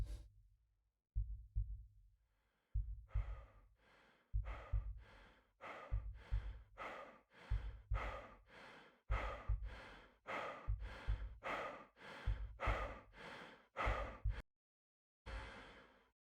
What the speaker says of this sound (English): So this is when you're running around and it plays an out of breath sound.